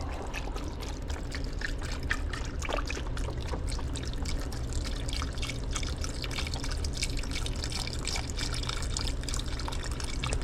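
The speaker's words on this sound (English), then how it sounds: "we'll go ahead and add some more broth to it" Broth pours steadily into a pot of meat and carrots, a continuous close liquid splash and trickle with no voices.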